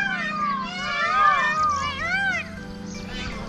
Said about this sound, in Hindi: देखिए कितनी मोरों की आवाज आ रही है